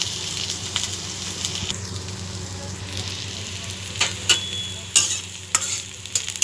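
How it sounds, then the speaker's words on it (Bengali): Chopped onions sizzle steadily as they fry in a wok, with a constant close crackle and a few sharper scraping and stirring clatters near the end. "এবার কড়াতে আমি যে পেঁয়াজগুলো আমি কেটে রেখেছিলাম সেই পেঁয়াজ কুচিগুলো আমি দিয়ে দেবো। পেঁয়াজগুলোকেও এবার ভেজে নেব।"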